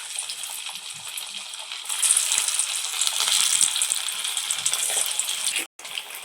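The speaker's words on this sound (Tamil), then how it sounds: "இப்போ நம்ம எண்ணெயில் போட்டு பொரிச்சு எடுக்கலாம்" Potato roll samosas deep frying in hot oil, giving a loud, close, continuous crackling sizzle that swells after about two seconds and stays dense to the end, with one brief dropout.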